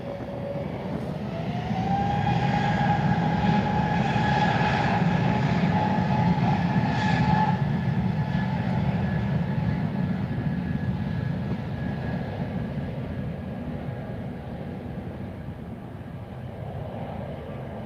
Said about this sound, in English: It's an A320 waiting for takeoff.